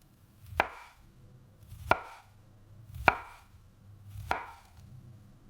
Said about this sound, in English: Slice the strawberries into small pieces.